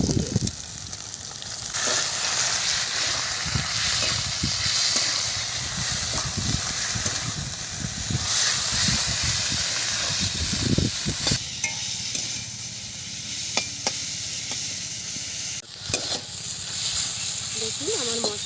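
Tomato, chilli powder, turmeric, ginger, garlic and cumin fry in a pan for a prawn khichuri, a steady close sizzle and hiss running throughout with occasional stirring scrapes.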